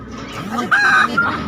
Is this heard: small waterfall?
no